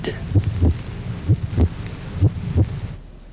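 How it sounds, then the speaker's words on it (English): A slow, deep heartbeat thumps in paired lub-dub beats, four pairs evenly spaced and loud, then fades away at the end. "The heartbeat you are now listening to"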